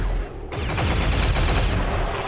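Gunfire in the XCOM 2 video game: a loud, sustained rapid burst of closely spaced shots that starts abruptly and keeps going to the end, with no talking.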